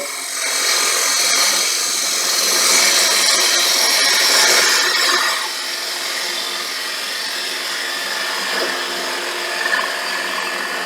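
A gouge cuts a wooden bowl spinning on a lathe at a live turning demonstration, producing a continuous loud, rough whirring and scraping that swells midway and then settles to a steadier hum.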